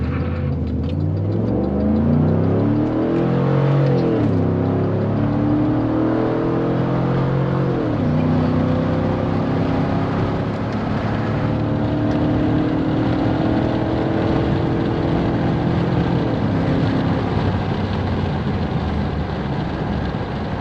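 Tuned truck launching on a quarter-mile run, engine loud and close, revving up through rising pitch sweeps with distinct gear shifts, holding a strong steady roar throughout.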